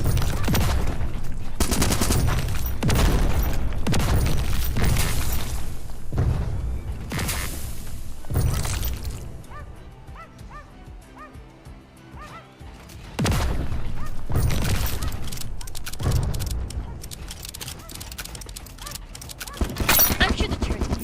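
Turret gunfire in the video game RimWorld, with repeated loud bursts of rapid shots broken by a quieter stretch, then resuming; a voice talks intermittently over the firing.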